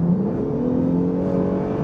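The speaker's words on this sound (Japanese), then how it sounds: "一番やっぱり変わるのがエンジンの音ですね" A Honda NSX V6 engine in Sport Plus mode revs and drones steadily, heard from inside the car, a smooth throaty tone rising slightly over about two seconds.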